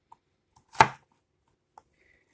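A knife chops an onion with one firm, close thunk on a cutting board, set among a few faint ticks and taps in an otherwise quiet kitchen.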